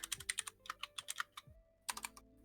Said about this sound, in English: I love that we're typing out this shit now.